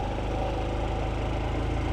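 Honda Trail 125 motorcycle engine held at steady high revs while climbing a steep hill, a loud, close, buzzing drone with a fast even pulse and no voices.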